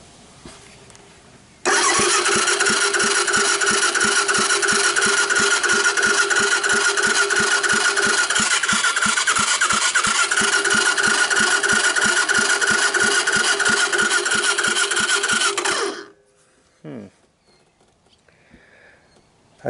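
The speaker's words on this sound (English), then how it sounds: "So I hooked my jump pack directly to the starter." A Honda Big Red 250ES three-wheeler, very rusty, cranks steadily on its electric starter powered by a jump pack for about fourteen seconds, a loud, even rhythmic churning with no firing, then stops abruptly.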